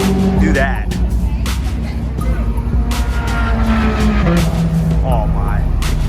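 Supercars driving at the Pitt Race track, among them a Huracan, a 458, C8 Corvettes and a GTR, with engines revving and surging past over a steady roar while people talk nearby.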